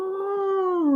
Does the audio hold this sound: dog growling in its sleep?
yes